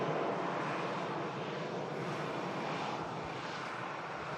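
EasyJet airliner rolling out after touchdown at Manchester Airport during a storm, giving a faint, steady, distant engine rumble and roar that holds evenly throughout.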